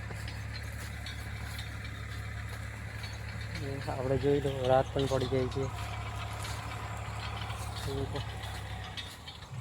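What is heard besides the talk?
tractor digging up groundnuts in a field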